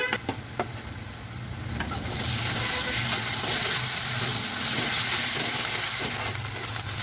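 Ginger garlic paste hits lightly browned fried onions in a hot pan for a Bengali chicken kosha. A quiet stir gives way to a loud, steady sizzle that swells and holds.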